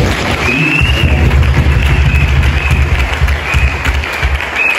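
A church congregation at a memorial tribute gathering bursts into sustained, dense applause, loud and close, with many hands clapping steadily and a few faint voices mixed in.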